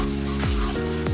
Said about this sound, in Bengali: রসুনটা একটু ভেজে